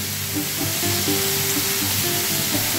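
Vegetables sizzle and fry steadily in a covered pan nearby, a constant crackling hiss with no voices.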